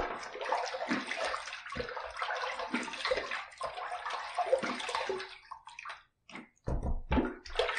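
Running water rinses a stainless steel injector razor during a shave, a close splashing and sloshing flow in uneven bursts that briefly stops near the end and then resumes.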